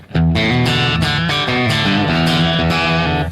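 A 1951 Telecaster electric guitar strums chords through a muffled, low-gain vintage amp. The tone is dull and boxy, with repeated strokes and no talking.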